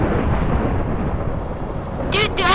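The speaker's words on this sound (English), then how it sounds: "there's lightning spawning right on the house" Thunder from lightning striking in Minecraft rolls as a heavy, continuous low rumble, loud and close, with a brief sharp crackling burst near the end.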